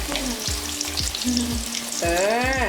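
Chicken 65 fries in hot oil, a loud, close crackling sizzle under regular low thuds and a droning tonal hum that bends upward near the end, with no voices.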